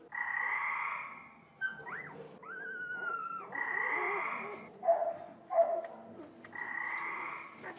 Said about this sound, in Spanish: Iniciamos con el sonido de la rana